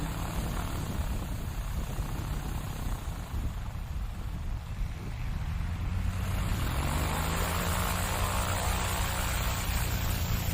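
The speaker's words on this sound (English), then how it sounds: "it's a 1963 Cessna 205 from Gauss, Texas, Brandon Korn" A 1963 Cessna 205 single-engine plane drones at a STOL practice event, its steady propeller hum shifting in pitch as it passes at moderate distance.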